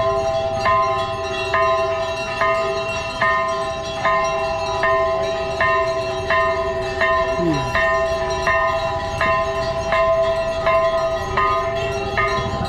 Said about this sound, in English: More of the bells.